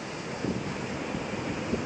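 Ocean waves wash onto a shore in a continuous broad rush, with wind buffeting the microphone and no voices.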